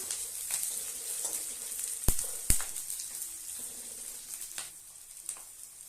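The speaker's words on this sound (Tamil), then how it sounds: "அதோட கருவேப்பிலை ஒரு கொத்து சேர்க்கிறேன். இதையும் போட்டு நல்லா வதக்கி எடுத்துடலாம்." A sprig of curry leaves and chili fry in a pan for millet semiya, crackling with a soft steady sizzle and two sharp pops partway through as the sputtering gradually quietens.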